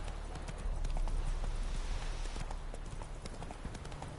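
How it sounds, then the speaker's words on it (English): Galloping horse hooves from Roach in the video game The Witcher 3: Wild Hunt, a steady rapid clip-clop rhythm running continuously and fairly loud against a low rumbling game soundscape. "Go, go. Roach, piece of shit. Stay on track, Roach."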